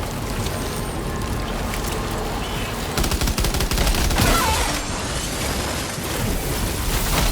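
Rapid gunfire in the video game Death Stranding 2, with dense bursts of shots that grow louder and busier partway through and keep going to the end.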